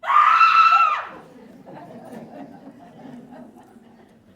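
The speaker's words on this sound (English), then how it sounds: "Or sometimes they'd just scream." A loud, high scream lasting about a second, performed by a human voice as a ghost-story effect, then fading into a murmur of crowd chatter and light laughter.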